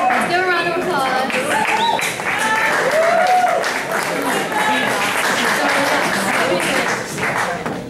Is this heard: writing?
no